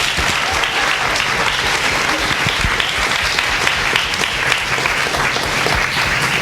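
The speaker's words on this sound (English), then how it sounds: "Let's give a round of applause for everybody here on the panel." Audience applause for a design panel, steady dense clapping from a crowd that holds at an even level throughout with no pauses.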